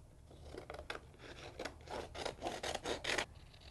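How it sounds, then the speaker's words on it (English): Scissors snip through a paper template for a dye-sublimation ceramic pet bowl, a series of quiet, crisp cuts quickening into a close rhythm, with no talking. "grab my scissors and I'm going to cut along the inside of my image"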